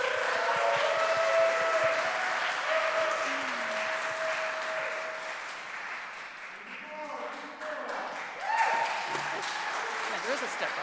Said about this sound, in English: while we're still applauding